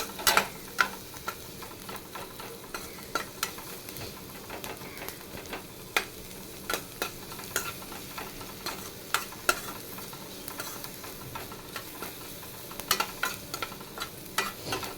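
Dried red chillies and onions fry in a pan for beetroot rice, a soft steady sizzle broken by frequent sharp spoon taps and stirring clicks, close but fairly quiet.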